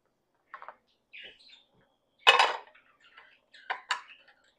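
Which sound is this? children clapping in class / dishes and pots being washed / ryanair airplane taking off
dishes and pots being washed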